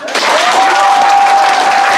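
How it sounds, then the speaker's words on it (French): A diaspora crowd at a political meeting in Paris breaks into loud, close applause that swells quickly and stays steady, with a sustained cheer or whistle riding over the clapping. "Applaudissez ça"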